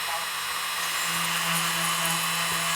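Drill bit working inside the hull of a 1:1400 scale model of the U.S.S. Enterprise NCC-1701-C, turned slowly to enlarge a hole. A steady near hum with a faint whine runs throughout, swelling a little midway.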